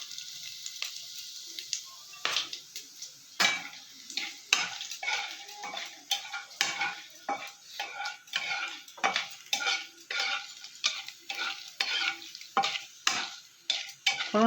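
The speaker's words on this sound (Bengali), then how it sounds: "ফোড়নটা আমার ভাজা হয়ে এসছে" Bay leaf, cinnamon, cloves, cardamom and white cumin frying in hot oil for a Bengali dhokar dalna, with a steady sizzle and repeated sharp clinks of a spoon stirring against the pan, close and fairly loud.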